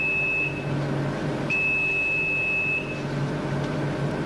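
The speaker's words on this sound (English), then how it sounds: "When the remove signal sounds, turn it off." A commercial deep fryer's timer sounds its remove signal, a steady electronic tone that rings briefly, stops, then holds longer over a loud, constant kitchen hum.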